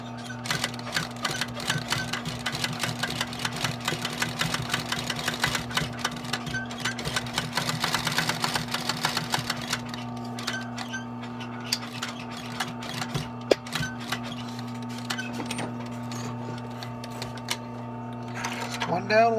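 A sewing machine chatters steadily while stitching a vintage leather briefcase, a fast mechanical patter over a constant motor hum, close up; it slows and thins in the second half with scattered clicks.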